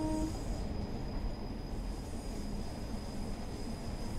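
Pacer train running in the video game Train Sim World 4: a steady, quiet low rumble of the train in motion, with a faint high whine running continuously throughout and no talk.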